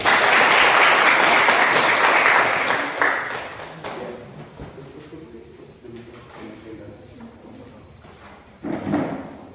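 Classroom audience applause after a student discussion presentation, loud and dense for a few seconds and then dying away into scattered handling noises and murmuring, with a brief burst near the end.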